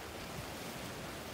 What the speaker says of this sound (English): Do you see the water washing in?